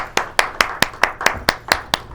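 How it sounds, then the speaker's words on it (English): A small studio audience claps at an even, brisk rhythm, about nine distinct sharp claps in quick succession, close and fairly loud with no cheering or talk. "give it a round of applause"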